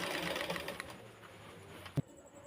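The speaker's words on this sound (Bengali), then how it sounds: "দেখুন এই যে আমি সেলাইটা দিয়ে নিচ্ছি" Sewing machine stitching a garment, a quiet rapid needle patter that runs and then tapers off, ending in a single sharp clack near the end.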